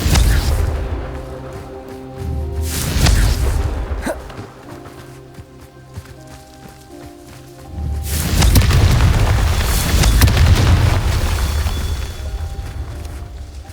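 Confringo fire spells blast in the video game Hogwarts Legacy: loud booming explosions burst out near the start, again around three seconds, and in a long rumbling roar from eight seconds onward.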